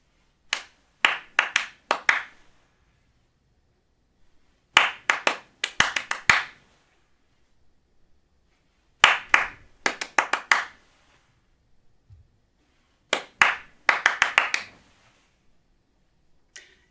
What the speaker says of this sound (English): I want you to imitate what I clap to you